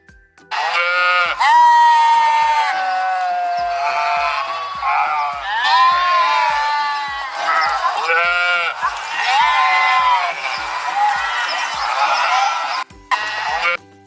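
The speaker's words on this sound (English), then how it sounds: "Sheep." A sheep on a farm bleats again and again up close, a run of loud, quavering cries with a few brief pauses, under a regular ticking beat that runs through the whole stretch.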